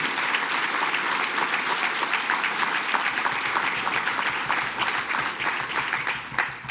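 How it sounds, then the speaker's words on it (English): A large audience at a Deputy Governor's awards ceremony applauds twelve civil-service nominees, loud and sustained clapping from many hands with a brisk, continuous texture and no talk over it. "Let's give them a round of applause"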